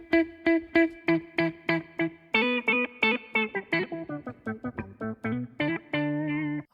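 Electric guitar lick run through an octave-down pitch block set like a whammy and an envelope-filter auto wah, a quick run of plucked, quacking notes ending on a sustained note, alone without speech.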